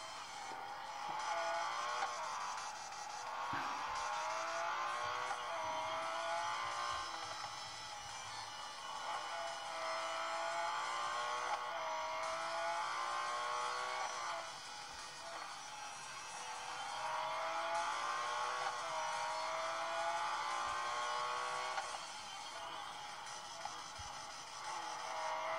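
Car engines race in a mobile racing video game, a steady whining drone with rising and falling gear-shift sweeps that runs throughout at fairly constant loudness, with no talk.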